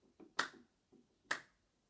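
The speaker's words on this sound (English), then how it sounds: "Hopefully, you worked out that I clapped 3 times" A teacher in a Year 1 maths lesson gives sharp, close hand claps, two crisp slaps spaced about a second apart against an otherwise quiet room.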